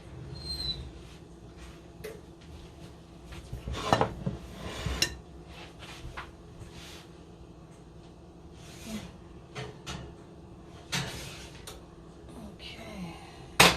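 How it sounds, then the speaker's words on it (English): Clinks and clatter of a metal pan and utensils as a pan of brownies comes out of the oven in a home kitchen, scattered knocks and scrapes with a door-like thud. "And now we're going to take our brownies out of the oven."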